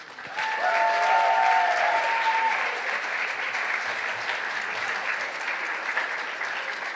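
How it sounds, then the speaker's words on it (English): An audience at a college undergraduate awards ceremony gives award recipients a sustained round of applause, loud and dense at first, then easing into steady clapping that carries on to the end. "Let's give them all another round of applause"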